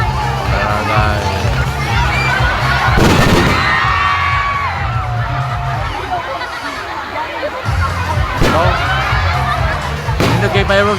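Fireworks at a Christmas light opening in Pantukan, Davao de Oro, with a few sharp bursts and a rising whistle over a steady crowd of chatter and cheering, while people talk nearby.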